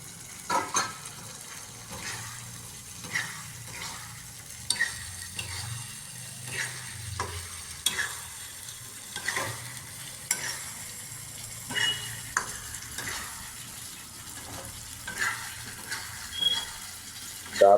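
Paneer cubes fry in garlic butter in a pan, giving a close, steady sizzle broken by repeated scraping strokes of a spoon stirring them.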